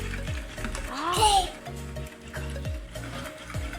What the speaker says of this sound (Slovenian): Kako lepo cvrči, čisto pravi zvok, čisto prava kuhinja in čisto pravi mali kuhar